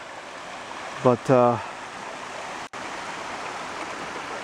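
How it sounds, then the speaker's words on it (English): Water running over rocks in a low, shallow stream, a steady broadband rush close by, briefly interrupted by a short spoken word near the start. "You hear that water running?"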